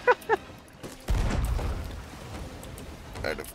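A heavy booming blast from a ship's cannon in the video game Sea of Thieves lands after a brief vocal sound, its low rumble decaying over a couple of seconds.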